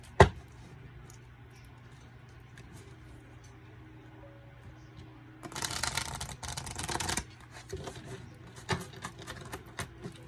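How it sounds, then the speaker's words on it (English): A sharp tap, then a quiet stretch, then a burst of riffling as cards are shuffled, followed by a few scattered flicks. "it's really hard to like shuffle like this"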